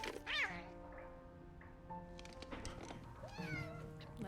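Cat meows in the video game Telling Lies: a sharp, rising meow up close, followed by a couple of softer, drawn-out mews over a quiet background.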